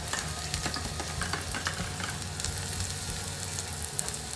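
Garlic fries for arroz caldo in a pan, a loud close crackling sizzle with brisk stirring scrapes, no talking.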